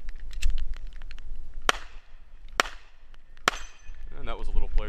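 Pistol shots ring out on a six-plate steel rack, several sharp cracks with metallic pings from the plates, irregularly spaced and close, with a voice briefly talking near the end.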